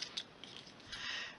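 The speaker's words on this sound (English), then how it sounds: "in with my scissors again" Scissors snip through patterned designer paper for a crafted table favour gift box: a few quiet, crisp cuts, one short snip near the start and a longer slicing cut toward the end, alone with no talking.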